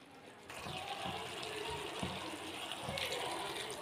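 Water poured from a tap or vessel into a cooking pot of potatoes and fresh beans, a steady splashing fill that runs continuously for a few seconds at moderate loudness with no talk.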